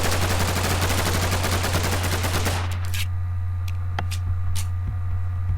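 Rapid full-auto fire from an MP7 machine pistol in a video game, a dense loud burst of very fast shots for about two and a half seconds that stops abruptly, leaving a steady low hum with a few faint clicks.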